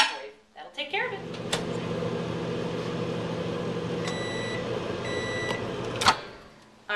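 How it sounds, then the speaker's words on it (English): A microwave oven runs briefly while softening Philadelphia cream cheese in a kitchen, a steady close hum with two quick bursts of beeps midway and a clunk as the door opens near the end. "No more than 10 seconds in the microwave."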